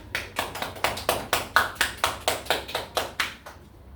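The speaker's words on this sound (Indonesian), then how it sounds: "Baik, tepuk tangan untuk Mbak Ani." A single person claps in a classroom, about a dozen sharp, evenly spaced claps in a steady rhythm, close and fairly loud, ending with a few quieter taps.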